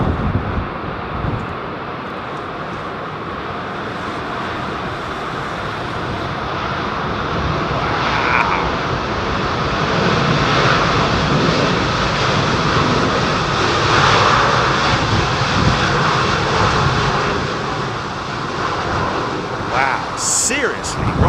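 An aircraft arrives at London Heathrow in windy conditions, its engines a loud, steady roar that swells and holds, broad and close, with a commentator talking over it.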